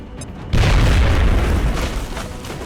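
A frag grenade blows up in the PC game XCOM Enemy Within: a sudden loud boom after a short quiet lead-in, with a rumbling tail that fades slowly.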